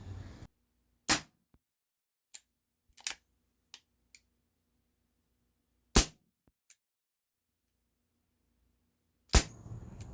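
A Beretta 92FS nickel and wood Umarex air pistol firing flat nose pellets: a handful of sharp, isolated cracks spaced seconds apart, with fainter clicks between, close and loud in a quiet room.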